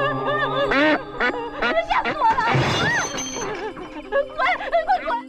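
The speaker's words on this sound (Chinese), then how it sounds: "一只鸭子就已经吓到小袁" A duck quacks several times in a run of harsh, nasal calls, up close and loud, mixed with a crash and other busy sounds in a tense horror-style scene.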